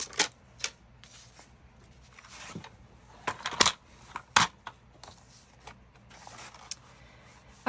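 Scissors snip through a cardboard file folder being trimmed down for a journal cover, giving a series of irregular crisp cuts and rustles, close and fairly quiet, with no talking.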